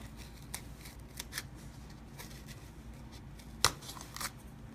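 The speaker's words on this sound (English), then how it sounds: "take a super sharp razor blade and you're going to cut down into that box" A super sharp razor blade cutting down into a cardboard box around a vacuum-bagged RC plane wing makes scattered scraping and slicing scratches, with one sharp, loud snap near the end.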